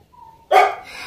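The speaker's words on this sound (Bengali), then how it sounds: "দেখুন সন্দেশ কিভাবে চিৎকার করছে" A single loud, close dog bark after a brief faint whine, followed by a tapering yelp.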